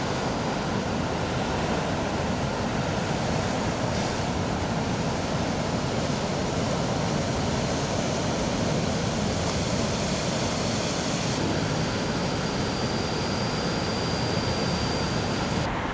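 Ocean surf at Sindangkerta Beach near Tasikmalaya sends up a dense, continuous roar of breaking waves and wash, loud and unbroken, with no voices.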